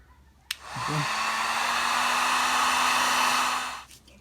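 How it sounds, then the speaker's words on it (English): A heat gun warms a car body panel, starting with a click and then blowing a steady, loud, close whooshing roar for about three seconds before it winds down and clicks off. "Heat up the panel to where it's warm but not burning."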